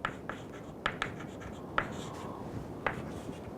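Hand-written strokes of an equation, a pen or chalk tapping and scratching in short sparse bursts against a quiet room hiss, with no voice.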